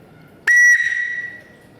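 A homemade whistle made from a broomstick gives one short, sharp, clear whistle blast that slides slightly and fades, loud and close, with no talking.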